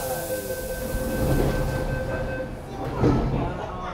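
An MTR Metro Cammell C243 train runs on Hong Kong's Tseung Kwan O Line, a continuous interior rumble of wheels and motor with a faint tonal whine, swelling and easing as the carriage moves.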